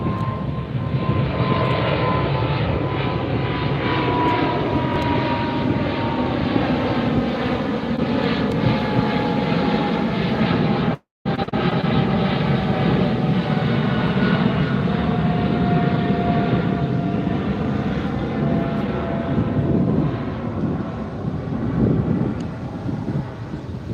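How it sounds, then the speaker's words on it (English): A British Airways Boeing 777 jet airliner flies over a beach near LAX, a loud, sustained roar with a slowly shifting pitch and wind buffeting the microphone, briefly cut out near the middle. "British Airways 777."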